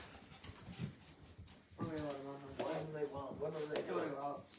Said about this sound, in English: There's all the house dogs and Pasta and Wanda.